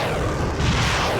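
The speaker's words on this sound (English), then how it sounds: "atomic bombs" Atomic bomb blast in space, a heavy continuous low rumbling boom that fills the whole short stretch at a loud, steady level, dense with deep bass; no voices.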